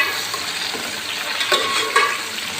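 Potatoes sizzle steadily in a hot pan with cumin, a dense crackling fry spread across the highs, with a couple of brief louder bursts as the pieces are stirred; no voices.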